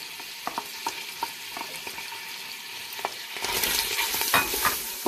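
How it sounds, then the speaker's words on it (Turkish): Diced beef cubes fry in oil in a pan as onion and garlic go in. Sharp utensil scrapes and taps come first, then the sizzle surges loud and close with continued stirring. "Evet, şimdi kuşbaşı etimizi yağda kavurduk."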